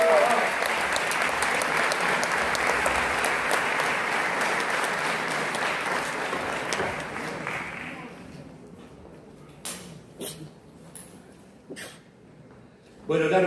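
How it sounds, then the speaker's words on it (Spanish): Loud, sustained audience applause fills a hall at the Premios Graffiti 2020 awards ceremony, then fades to scattered claps and a few knocks over quiet room noise. "Fuerte el aplauso para él"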